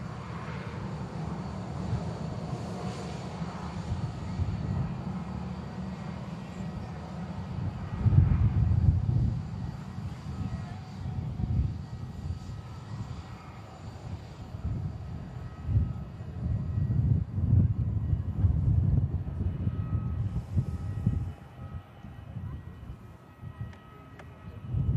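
A Scandinavian airliner departing for Oslo, its engines a broad steady roar that swells and fades over the whole stretch, heard from a distance with no talking.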